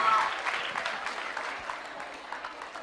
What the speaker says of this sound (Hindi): तो फिर तालियां बजाओ, तालियां जोरों से, जोरों से तालियां बजाइए।